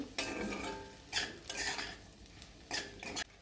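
A utensil clatters and scrapes against a pan in a few short strokes as an egg bhurji mixture is stirred, close and fairly loud, with no talk.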